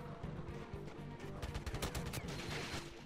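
Distant, muffled gunshots crackle in a GoldenEye 007 match on the Wii, a scattered cluster of shots with crashing noise, quiet under a steady background hum.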